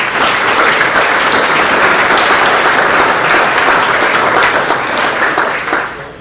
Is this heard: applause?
yes